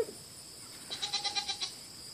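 A newborn Nigerian Dwarf goat kid bleats in a quick series of about six thin, high, wavering calls close by, with no talking.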